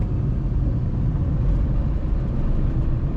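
Low rumbling engine of a Tata Nano car during gear shifting, a steady broadband drone with no distinct shift events standing out, heard close and constant throughout.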